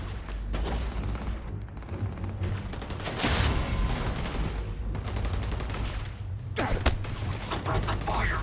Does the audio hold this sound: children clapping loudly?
no